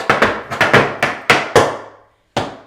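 Tap shoes strike a hard floor in crisp, close steps: a quick run of sharp taps in a ball change and scuff pattern, a short pause, then one final tap.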